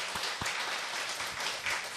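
A church congregation claps together during a Sunday service, producing a steady, even wash of applause at moderate volume with a few louder individual claps.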